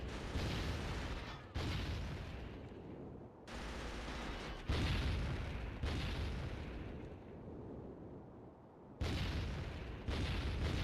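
Grenades blast repeatedly in the video game Killzone Liberation, a run of loud, heavy booms that each burst hard and then rumble off, coming one after another with short gaps and no one talking.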